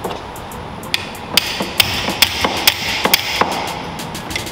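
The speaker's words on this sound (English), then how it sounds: "Plan B is hammer." Sharp metallic hammer blows ring out one after another, about eight irregular strikes against a Mazda Miata power steering rack, loud and close over a faint background hum.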